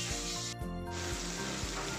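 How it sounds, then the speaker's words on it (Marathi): Spiced bitter gourd (karela) pieces fry on a hot tawa with a steady, close sizzle that runs throughout, broken by a brief burst of louder crackle partway through. "आता मी तळते तव्यामध्ये, ते तुम्हाला दाखवते."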